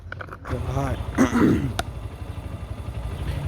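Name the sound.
motorcycle engine being started in gear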